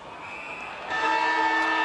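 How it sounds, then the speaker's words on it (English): Siren at an Australian football match, Melbourne v Collingwood in the 2012 NAB Cup, a steady harmonic horn-like tone that grows louder partway through and holds over crowd noise. "what a whistle on the siren"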